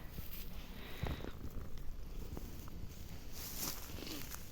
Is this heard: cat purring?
yes